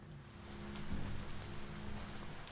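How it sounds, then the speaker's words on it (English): Rain in the video game Biomutant falls as a steady, broad patter across the whole stretch, swelling slightly in the middle, with a low hum running underneath and no thunder. "Where I could hear the rain in both."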